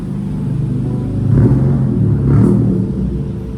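A Honda Civic fitted with strobe underglow lights rolls into a car park at a retro car show's load-in, its engine a low steady rumble that swells twice as it revs gently, close by and with no talk over it.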